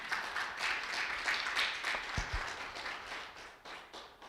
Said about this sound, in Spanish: Den un fuerte aplauso a Cristo Jesús.